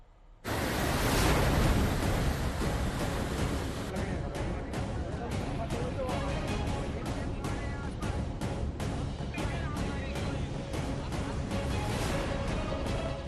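The Sharda river in Uttar Pradesh, in monsoon flood, rushes past as a loud, dense roar of water. It starts abruptly and holds steady for over ten seconds, with slight surging texture.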